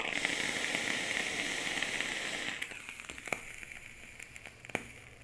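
A vape atomizer coil gives a dense, continuous sizzle after firing, which thins into scattered crackles and small pops as it cools; close up, no speech.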